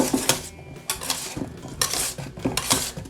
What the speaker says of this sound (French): Puis à l'aide d'un fouet, je mélange l'ensemble.